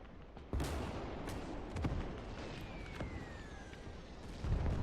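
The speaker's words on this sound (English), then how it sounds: "Go ahead and call artillery fire there to pave the way" Artillery and gunfire rumble in a WWII Iwo Jima invasion game battle, with repeated distant booms and cracks over a dense, continuous roar of combat.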